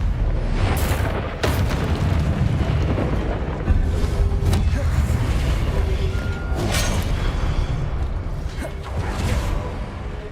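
Repeated Confringo blasting-spell explosions in Hogwarts Legacy, a dense run of loud booming bursts and whooshes over a rumbling low end, with several sharp blasts standing out across the stretch.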